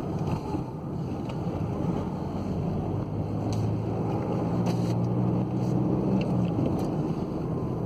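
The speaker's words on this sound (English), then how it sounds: "Just taking it for a test drive now." A 2008 Skoda Octavia 1.9 TDI diesel on a test drive after a gearbox replacement, a steady loud interior engine drone and road rumble with some wind noise, no talk.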